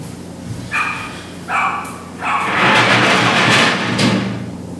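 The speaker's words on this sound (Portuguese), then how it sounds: "o cachorro do vizinho começou a latir" A neighbour's dog barks a few times from some distance, three short bursts followed by a longer run of barking over steady room noise.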